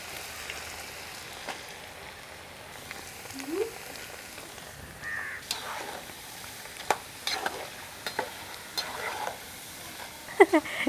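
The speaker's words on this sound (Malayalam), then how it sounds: "പഴുത്തത് മുഴുവൻ പൊരിച്ചു കഴിഞ്ഞു നമ്മൾ അവിയൽ പരുവത്തിൽ അരിഞ്ഞു വെച്ചിട്ടുള്ള പച്ചക്കായകളാണ് പൊരിക്കുന്നത്" Raw green plantain pieces cut for avial frying in hot oil, a soft continuous sizzle with scattered crackles and pops growing busier toward the end, no voices.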